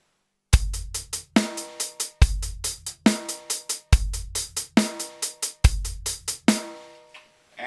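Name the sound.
basic drum groove: bass drum, snare, sixteenths on hi-hat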